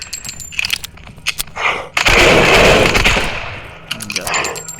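Revolver shots in the mobile game Same Room Same Day: a dense burst of sharp bangs and rattling impacts, loudest in the middle, with scattered clicks and game effects before and after.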